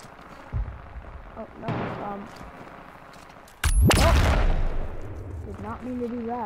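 AK rifle shots in the battle royale game H1Z1, one loud sharp blast standing out near the middle over game noise and background chatter, with talk around it.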